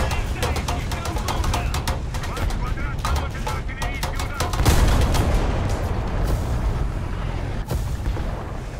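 Rapid cannon fire from a Yak-9K aircraft in a video game, shooting at a wall: a dense, loud stream of heavy shots with a bigger boom partway through and continuous engine rumble underneath.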